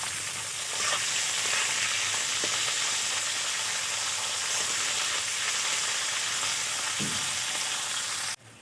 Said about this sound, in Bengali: বিনসগুলো দিয়েও আমি কিছুক্ষণ ভেজে নেব।